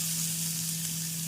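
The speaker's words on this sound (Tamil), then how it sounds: "நன்றாக பொரியவும் பொடியாக நறுக்கிய பெரிய வெங்காயத்தை சேர்த்து விடலாம்." Chopped big onions tipped into hot oil with cumin seeds, frying in a steady, loud, continuous sizzle with no voices.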